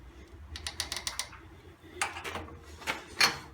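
An Allen wrench tightening a fitting on Shopsmith woodworking equipment: a run of quick metallic clicks and ratchet-like ticks close by, a short pause, then a few more scraping clicks and a sharper final snap, with no talking.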